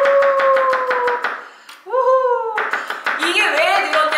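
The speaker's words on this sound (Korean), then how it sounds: "마늘 3개. 일단은 편으로 썰어줄게요." A knife slices garlic cloves into thin slices on a cutting board, giving a quick run of crisp, evenly spaced chops that stop partway while a person talks and other kitchen sounds follow.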